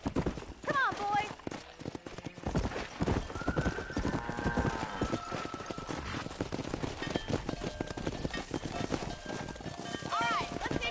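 Horse hooves clip-clop steadily through a Western ranch scene in the video game Red Dead Redemption, with occasional whinnies, other game sounds and voices talking over the top.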